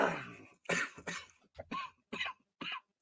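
A person coughs repeatedly, several harsh bursts in quick succession with short gaps between them, close and fairly clear, and there is no talking around the coughs.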